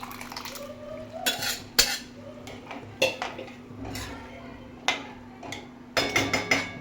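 Lentils tipped into a pot with cooked drumsticks and stirred with a metal spoon, giving close, irregular clanks and scrapes against the pot over a low steady hum, no talking.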